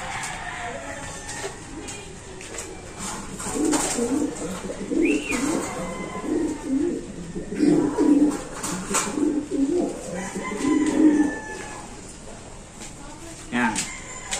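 Racing pigeon cooing in a loft, several rolling low coos close by, mixed with someone speaking over them.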